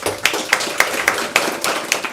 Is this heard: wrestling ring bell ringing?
no